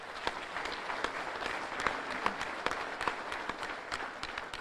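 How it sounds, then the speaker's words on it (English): An audience at a State of the State address in Monroe breaks into steady, sustained applause, a dense wash of many hands clapping at moderate distance with a few sharper claps standing out. "Y'all should give them a round of applause."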